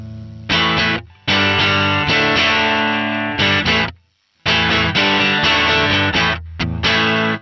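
Electric guitar played through an amp pedal on a clean tone, sustained chords ringing out loud and full, with a brief pause before strumming resumes.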